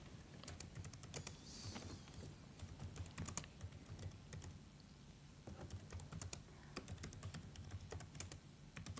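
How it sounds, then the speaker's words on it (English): Continuous, quiet typing on a computer keyboard, a rapid irregular patter of key clicks with a few brief pauses, close and with no voices. "So as you can all see that I am typing in my question in here"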